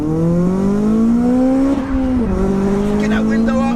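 A Mugen Honda Civic Type R accelerating hard from 20 to 70 mph, its engine note climbing steadily through the revs with a brief dip at a gear change, loud and close, with excited voices shouting over it.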